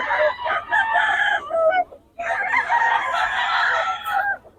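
A stag rooster crows loudly and close by, two long harsh crows separated by a brief pause, over a low background hum.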